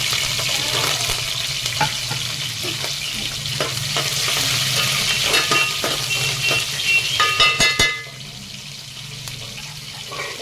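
Whole garlic cloves and green chilies fry in hot oil with a steady sizzle, with stirring clatter against the pan and a drop in the sizzle near the end.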